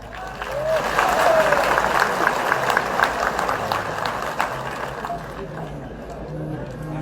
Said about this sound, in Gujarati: એકવાર જોરદાર તાળીઓ પડે તો જ મને ખબર પડે